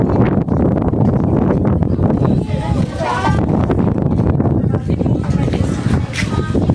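Wind buffets the microphone outdoors near a cafe, a steady loud rumble under continuous talk.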